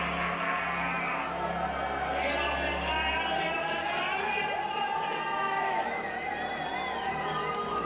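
A crowd roars, cheers and whoops at the Red Bull PlayStreets 2023 contest in Bad Gastein. The noise is loud and continuous, with a voice talking over it throughout.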